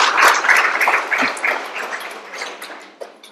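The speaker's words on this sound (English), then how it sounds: "A big round of applause for sir once again" Audience applause at a Teacher's Day address in a university gathering, a dense, steady wash of clapping that starts full and gradually thins and fades toward the end.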